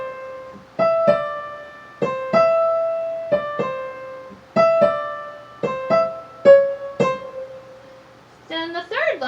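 A piano plays one line of Aram Khachaturian's Waltz from a beginner literature book, a sparse, clear melody of spaced notes and dotted rhythms up close, followed by a brief bit of talking at the end.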